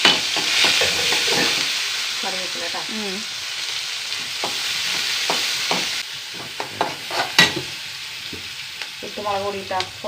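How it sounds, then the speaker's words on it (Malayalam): Onions frying in a pan for a curry sizzle with a steady crackling hiss, stirred intermittently, while a voice talks over the cooking. "സവാള ഇട്ട് കൊടുക്കും സവാള"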